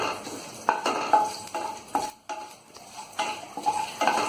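Panch phoron spices frying in a pan for chholar dal with vegetables, a light sizzle broken by rhythmic scraping and stirring with a metal spoon against the pan, close, with no talking.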